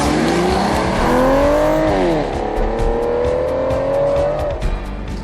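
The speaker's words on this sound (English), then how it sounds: "before the 48 valve 6 litre V12 engine explodes into life" The 6-litre 48-valve V12 of a 2011 Aston Martin DBS roars loudly, its engine pitch rising, dipping and climbing again in sustained revs close by.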